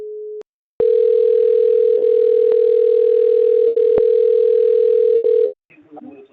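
A steady, loud telephone dial tone hums after a call drops, briefly interrupted by short clicks and gaps, then cuts off near the end as faint movement and a voice begin.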